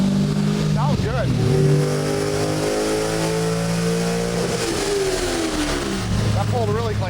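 C5 Corvette Z06 with bolt-on upgrades revving hard on a dyno, its loud engine note climbing and falling through repeated pulls, with rising harmonic sweeps near the end; steady and close throughout.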